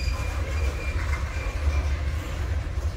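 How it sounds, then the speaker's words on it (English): Steam locomotive 610 rolls past with a steady low rumble and continuous rail-car wheel noise, close and fairly loud throughout with no talk. "It's a cozy little train."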